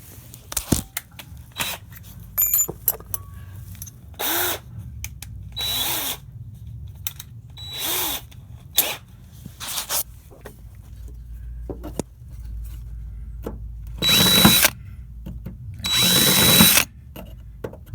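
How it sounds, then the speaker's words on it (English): A power drill bites into a broken, rusted bolt in short, loud whirring bursts. Quiet clicks and handling noises fill the pauses between them. "Now I got my bigger drill in there."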